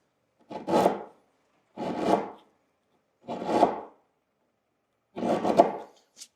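A chisel pares wood across the grain while a door is made, four separate scraping strokes about a second apart, close and clear against silence.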